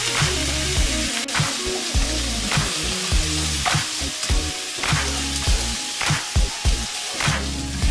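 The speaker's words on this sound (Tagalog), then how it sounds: "pwede na nating ilagay ang cabbage. Stir fry lang natin ito for 3 to 4 minutes" Cabbage stir-frying with onion and garlic in a hot pan gives a steady, close sizzle, broken by repeated scraping strokes and sharp clicks of a utensil against the pan.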